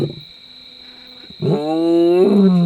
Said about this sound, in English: Their roars were not just sounds, they were physical vibrations that seemed to shake the very fabric of our tent and the ancient sand beneath us